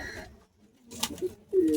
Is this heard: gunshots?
no